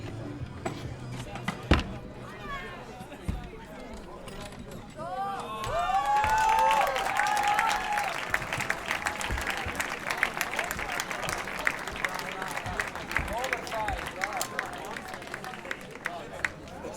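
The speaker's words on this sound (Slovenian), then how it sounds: "Velik aplavz za tekmovalca iz Akarinka, Žan Krastovec." An audience at an ice climbing competition in Domžale breaks into clapping and cheering after an announcer speaks, and the applause swells loudly and then carries on in scattered claps.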